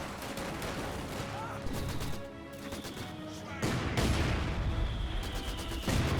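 Gunfire and machine-gun bursts from a Company of Heroes 2 battle crackle densely throughout, with heavier booming volleys toward the end; a voice talks faintly underneath at times.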